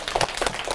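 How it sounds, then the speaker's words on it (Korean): Brief scattered clapping from a small audience at a lecture on counseling elderly people living alone, a few quick claps lasting under a second. "시흥시를 위해서 박수 한번 쳐주세요"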